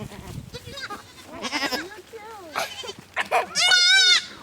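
A goat bleats loudly and close, repeated wavering cries while being grabbed by hand on a farm at a historic state park, with people talking and calling out around it.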